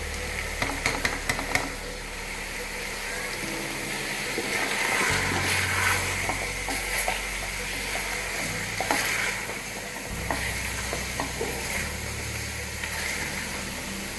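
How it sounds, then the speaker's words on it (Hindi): Spices for Kashmiri aloo gosht fry in a pan with a continuous, fairly loud sizzle and crackle, while stirring strokes scrape now and then, and a few brief clicks come early on. "तो ये सारे मसाले हम इसमें डाल देंगे।"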